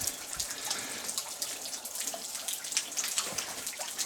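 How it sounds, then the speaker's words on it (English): Steady splashing and trickling water, a small cascade close by with scattered drips standing out, no voices. "Nice little waterfall here."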